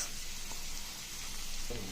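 Steady sizzle of ivy gourd (kovakkai) frying in a pan with soft scraping as it is stirred, close and continuous.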